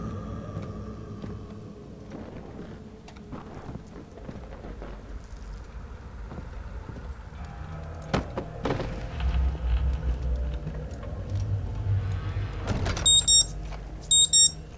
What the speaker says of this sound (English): That was my alarm. I forgot to turn it off.